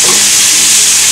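Willowleaf wild lettuce dropped into a hot pan, with a loud continuous hissing sizzle that holds steady before cutting off abruptly.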